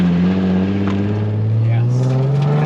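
A drift car engine idles and revs with a rough, chattering mechanical tone, loud and close, rising slightly in pitch over a few seconds.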